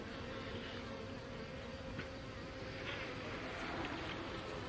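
Honey bees from a hive with a modest colony hum in a faint, steady, even drone while the hive is opened gently for inspection, with a few soft rustles over the buzz.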